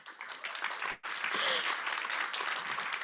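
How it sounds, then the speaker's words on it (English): Audience applause at a startup innovation awards final, a steady round of clapping from a crowd that breaks off briefly and then resumes, filling the room without any voices over it. "I believe Delhi Saper deserves a better round of applause than that."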